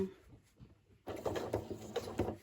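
A domestic sewing machine, speed set by a foot pedal, stitches appliqué on denim one or two stitches at a time. After a quiet start it produces close, uneven mechanical whirring and clunking bursts.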